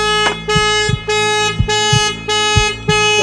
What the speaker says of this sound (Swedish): Måste man tuta för barna först?